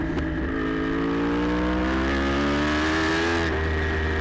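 Open superbikes at an AFM 2013 Round 7 road race stream past under a bridge, a loud continuous engine howl with pitch sweeping as they pass, close and alone without talk.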